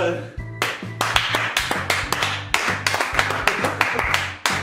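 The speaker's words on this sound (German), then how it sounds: "Ich will jetzt einen Applaus von euch hören!" A small group claps from close by in a quick, regular rhythm of sharp, distinct claps, with excited voices and a low tonal sound running underneath.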